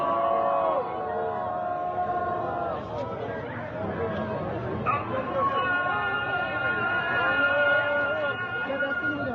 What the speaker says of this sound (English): That's the azan. That's the morning call to prayer that happens at the same time of the execution.